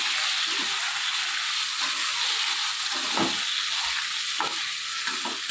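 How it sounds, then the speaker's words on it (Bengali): Potatoes fry in hot oil with whole cumin seeds, salt and turmeric in a pan, giving a steady close sizzle and hiss broken by a few scraping stirs of the spoon, with no talking. "আলুটাকে দিয়ে লাল করে একবার ভেজে নিতে হবে।"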